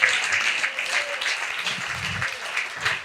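An audience at an afterwork event claps for Julien, moderate and fairly close, with some murmured voices underneath.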